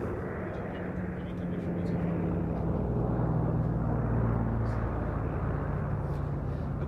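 A Catalina flying boat performs an air show display, its steady engine drone rumbling continuously at moderate distance and swelling slightly in loudness midway before holding level.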